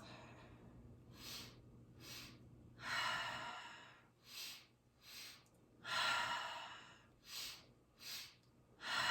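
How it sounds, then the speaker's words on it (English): A person takes slow, audible breaths, pulling air in through the nose and pushing it out through the mouth, with about eight distinct breathy exhalations at irregular intervals, close and alone against quiet. "If you can, inhale through nose, exhale through mouth."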